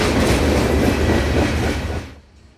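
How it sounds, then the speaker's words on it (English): A mixed freight train departing Winston Yard rolls past nearby with a loud, steady broadband rumble and wheel noise, then quickly fades away near the end. "A daily mixed freight departing Winston Yard bound for Miami."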